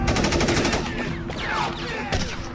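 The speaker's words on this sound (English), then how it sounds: "then you hear the machine gun fire." Machine gun fire in a rapid, sustained burst of sharp repeated cracks at moderate distance, the rhythm continuing steadily with a few louder reports breaking through.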